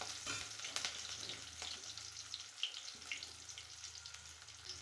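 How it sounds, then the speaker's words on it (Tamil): Garlic cloves sauté in a pan while making peanut chutney, giving a steady, moderately close sizzle and frying crackle with a few light stirring clinks throughout. "இது கூடயே ஒரு 10 பல் பூண்டு அதையும் சேர்த்து வதக்கிக்கலாம்."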